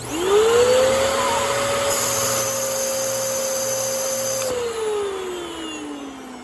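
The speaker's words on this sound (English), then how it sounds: "if you got one of these Bissells, really any bagless vacuum, and it does this" A clogged Bissell bagless vacuum cleaner runs with a strained, high whining tone that rises at startup and holds steady, sounding choked and labored.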